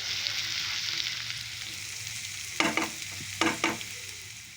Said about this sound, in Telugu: 1/2 టేబుల్ స్పూన్ పసుపు వేసి 2 నిమిషాల పాటు కలుపుతూ ఉండాలి